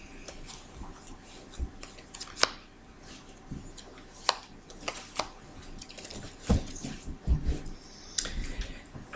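Tarot cards being cut and handled during a reading: a string of close, sharp papery snaps and soft shuffling taps, irregular and fairly loud, with no talk over them.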